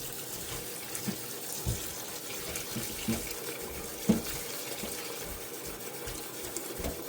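Water runs steadily from a tap over beans being rinsed, with soft splashing and a few light knocks, with no voices.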